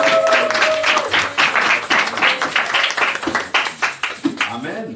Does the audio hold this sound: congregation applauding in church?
yes